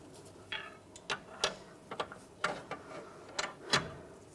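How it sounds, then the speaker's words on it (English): Ratchet wrench clicking in short, uneven bursts while loosening the front lower ball joint nut on a 1998-2010 Volkswagen Beetle, the sharp ticks close and fairly faint against a quiet workshop. "Now we're going to loosen the nut."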